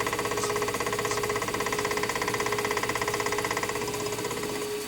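A lathe runs continuously with a steady mechanical hum and a fast pulsing rattle, close and even in level throughout, with no talk.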